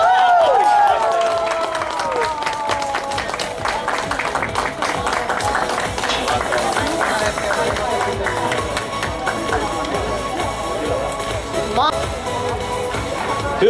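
An outdoor crowd at an open-air church meeting on a market square stage claps and cheers for several seconds, dense steady applause mixed with whoops and voices throughout.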